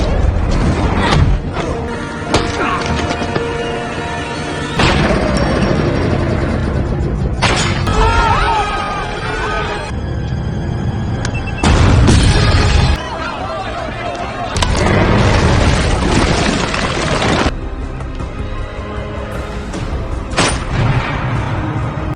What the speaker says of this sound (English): A massive explosion erupts.